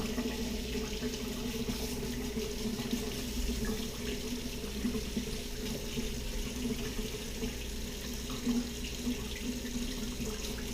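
Steady, continuous rush of water pouring from a tap, close and fairly loud, with no voices and little change throughout.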